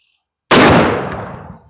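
A single close, very loud blast from a .500 Bushwhacker rifle fired at a lead plate, a sharp crack followed by a long fading boom and echo trailing off over about a second.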